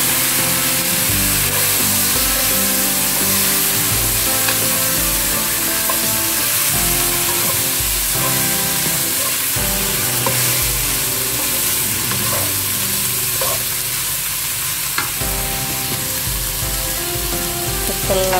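Beef stir-fried in a pan for curry, a loud, close continuous sizzle with scraping stirring sounds throughout, no one talking.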